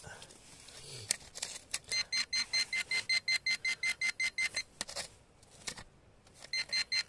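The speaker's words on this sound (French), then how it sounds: "j'ai entendu le bip là" A metal detector sounds a rapid, regular beeping tone that pulses steadily for several seconds, pauses, then resumes briefly; quiet and close.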